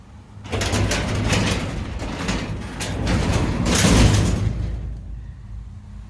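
An Amarr Lincoln 1000 garage door is pulled down, its sectional panels rumbling and clattering along the track for several seconds, loud and close, before the noise settles and stops, with no talking.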